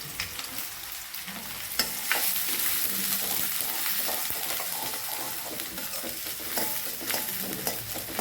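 Onions and vegetables sauté in a hot pan for fried rice and cauliflower manchurian. A loud, steady sizzle runs throughout, broken by frequent stirring scrapes, with no voices.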